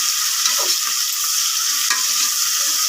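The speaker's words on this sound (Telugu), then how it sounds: "అల్లం వెల్లుల్లి పేస్ట్ పచ్చివాసన పోయేంత వరకు కాసేపు వేగాలి." Ginger garlic paste frying in hot oil inside a pressure cooker while biryani is being made, a steady loud sizzle with occasional stirring scrapes, no voices.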